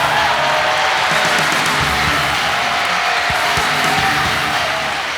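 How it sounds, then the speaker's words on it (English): A large crowd at the 2003 EverStart Championship fishing tournament applauds its ten finalists, a dense, continuous wash of clapping and cheering that stays loud throughout. "how about a big round of applause for our 10 finalists for the 2003 EverStart"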